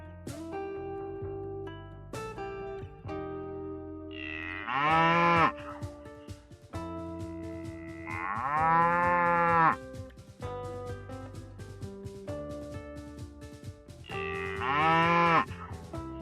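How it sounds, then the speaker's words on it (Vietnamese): Cattle moo loudly in three long, drawn-out calls spaced several seconds apart, set over a light musical background with no speech. "Con bò. Con bò. Cows,"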